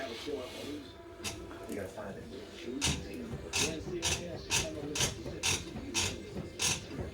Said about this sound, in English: Grinding inside of there.